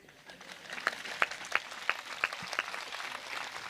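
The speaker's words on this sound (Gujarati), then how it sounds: "હે સગળા લોકો હે સગળા લોકો તાળી પાડો" A church congregation at a Christmas celebration claps hands in a slow, even rhythm, about six distinct claps roughly a third of a second apart, moderately loud in a reverberant space with a faint background murmur.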